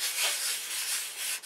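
Sandpaper of 80 grit rubs back and forth across a model part, a close, steady raspy scraping with no voices.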